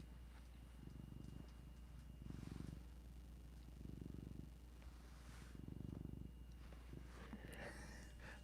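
A cat purrs close up in slow, rhythmic rumbling pulses, a steady low buzz that rises and falls with each breath over a faint constant hum, with no talking.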